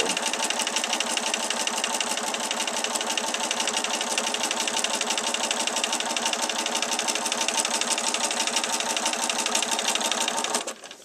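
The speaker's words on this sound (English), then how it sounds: "I'm just letting the sewing machine do the work" A sewing machine running continuously at a fast, even rhythm, close by, its rapid stitching chatter stopping abruptly near the end.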